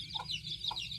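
A silkie chicken gives a few soft, close clucks in quick succession, quiet and alone.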